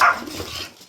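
A quick dog bark at the start, followed by softer yips and whimpering sounds from nearby.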